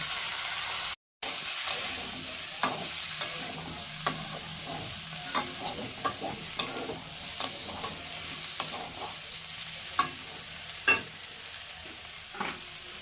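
Boiled vegetables stirred into lentil dal in a pot, a steady sizzling hiss punctuated by regular sharp clicks and scrapes of a spoon against the pan, after a brief silent gap at the start.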